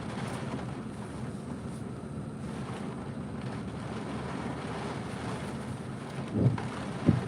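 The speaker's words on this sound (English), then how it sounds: "every time we get a really strong gust and a heavy rain" Strong wind gusts and heavy rain from Hurricane Milton battering Sarasota, Florida, a steady loud low roar of wind and downpour throughout, with a couple of brief thumping bursts near the end.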